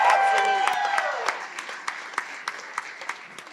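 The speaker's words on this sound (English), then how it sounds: "Give a huge round of applause for Jesse Blake" An audience at a live podcast taping at The Rec Room in Toronto applauds for Jesse Blake, a loud burst of clapping that fades into sparse, scattered claps near the end.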